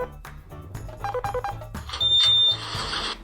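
A rapid run of short electronic beeps, then a sustained high-pitched tone, over a thumping background beat.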